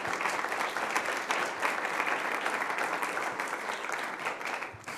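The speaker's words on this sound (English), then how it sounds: "Let's give them a round of applause" Sustained audience applause welcoming a panel at a marijuana legalization debate, dense even clapping that holds steady for about five seconds and tapers slightly at the end.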